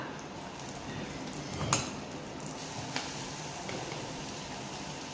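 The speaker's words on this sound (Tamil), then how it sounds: "இப்போ வெங்காயம் கட் பண்ணி வச்சுக்கிறத எண்ணெயில் போட்டுக்கலாம்." Chopped onions dropped into hot oil in a clay pot give a steady, even sizzle throughout, with a couple of faint clinks from a utensil, close and moderately quiet.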